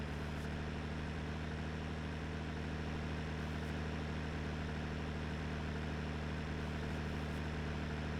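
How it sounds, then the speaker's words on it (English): A 180 horsepower tractor in a farming video game pulls a three-shank plough, its engine droning in a steady, loud, unbroken low rumble with no voices over it. "180 horsepower tractor."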